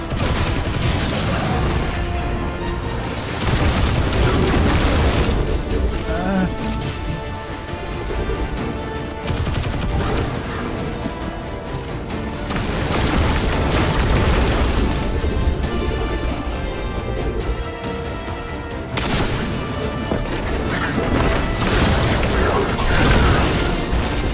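Rocket blasts and heavy weapon fire in the video game Destiny 2, loud dense booms and rumbling bursts that keep going with only short dips, forming a nearly continuous chaotic barrage.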